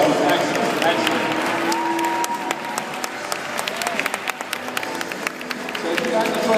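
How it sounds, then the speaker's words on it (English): Wedding guests at a reception applaud after a speech, a full room of clapping with scattered cheers and voices mixed in, sustained and fairly close. "Everybody, give Varun a big round of applause"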